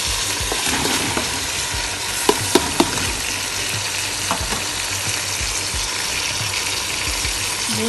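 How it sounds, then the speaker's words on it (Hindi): Mutton frying and being stirred in a pot for yakhni pulao, steady sizzling with a few sharp clinks of a utensil, loud and continuous throughout. "गोश्त डालूँगी"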